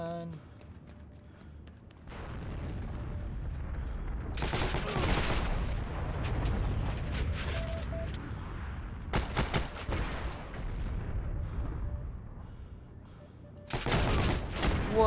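Bursts of game gunfire in Heroes and Generals, a World War II shooter, with broadband volleys around two seconds in, again near five and nine, and a loud final burst, over a steady rumble of battlefield noise.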